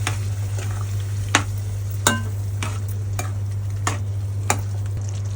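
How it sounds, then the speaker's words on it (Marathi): Cooked mutton being stirred in a hot pan for Malvani mutton rassa, with a steady sizzle, a low constant hum underneath and several sharp scraping clacks of the spoon against the pan at irregular intervals. "चांगलं ढवळून घेते"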